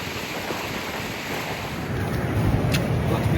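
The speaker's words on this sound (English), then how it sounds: "You can really feel the wind." Strong wind buffets and roars against the microphone beside a stopped car and caravan, growing louder toward the end, with no one speaking.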